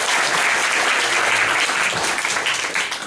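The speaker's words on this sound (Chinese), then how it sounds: "好，我们请掌声欢迎今天的讲者" A lecture hall audience breaks into loud, continuous applause to welcome a speaker to the stage, a dense, even roar of many hands clapping for about three seconds.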